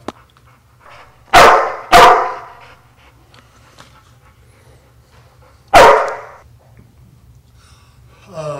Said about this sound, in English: She's an American bulldog.